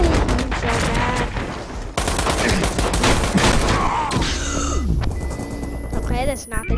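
Rapid gunfire rattles in the online shooter Metro Conflict, with dense bursts of shots over game sounds, loud and close, while a player talks over the action.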